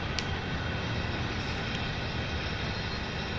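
US road freight train hauled by three locomotives, a steady loud rumble and rolling roar heard from the cab, continuous with no breaks or talking.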